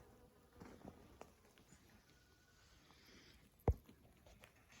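Bees and wasps buzzing in a summer homestead garden, a faint hum with soft fluttering passes and one sharp close tap, quiet and outdoors.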